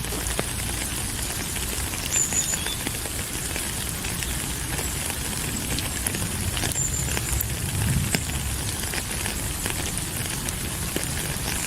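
Steady rain pattering and hissing across a surface, dense and continuous with occasional louder drops, no voices.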